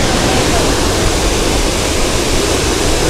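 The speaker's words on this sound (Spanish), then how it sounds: "vamos a encontrar la caída de la cascada" Quetzalapan waterfall in a heavily vegetated gorge near Chignahuapan and Zacatlán, Puebla, giving a loud, steady broadband roar of cascading water that holds constant throughout with no pauses.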